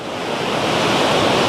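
Surf washing onto a beach on a grey, windy, rainy day, a steady broad roar of breaking waves mixed with wind buffeting the microphone, with no voices.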